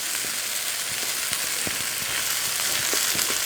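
Steady, loud sizzling of onions frying in a hot pan for caramelizing, with scattered small pops and crackles and no talking.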